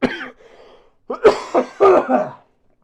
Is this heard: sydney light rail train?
no